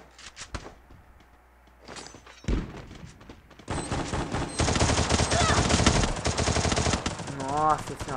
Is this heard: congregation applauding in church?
no